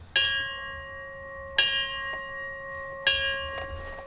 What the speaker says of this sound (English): The bell tolls for Pky's heroic soul, fellow firefighters feeling it through the helmet he left behind